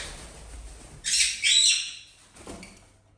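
Pet parrots squawk and chirp indoors in two loud, harsh, close bursts, followed by a shorter call after a brief pause.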